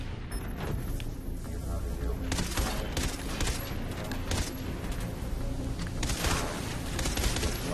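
Dense, steady gunfire in the game Far Cry 3: Blood Dragon, a continuous rattling barrage of shots and booms that stays loud and busy throughout, with no clear gaps.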